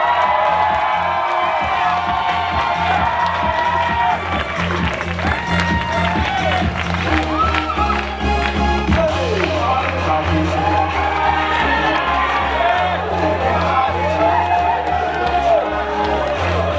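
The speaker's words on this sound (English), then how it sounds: "I want you guys to give the loudest applause you can." A school audience of children cheers, shouts and applauds loudly, with whoops and clapping in a dense, sustained crowd roar that stays near and full for the whole stretch.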